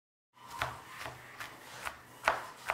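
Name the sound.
chopping food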